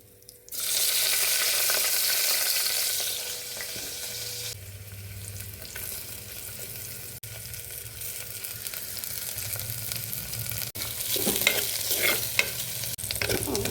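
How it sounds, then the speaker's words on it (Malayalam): Garlic and ginger are dropped into hot oil and hit it with a loud burst of sizzling. The frying then settles into a steady, even hiss, broken by occasional stirring scrapes toward the end. "അപ്പോൾ നമുക്ക് ആദ്യം ഈ വെളുത്തുള്ളി ഇഞ്ചി ഇതെല്ലാം ഇട്ട് കൊടുക്കാം"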